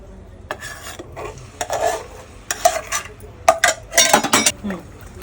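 Ground masala paste sautés in a kadhai with four spoons of hot oil for Malvani mutton rassa, with a soft sizzle broken by loud, intermittent bursts of spatula scraping and metal clatter.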